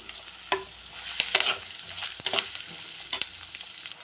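Snake gourd sizzles in a hot pan while a utensil stirs and scrapes through it in short, irregular strokes, close by.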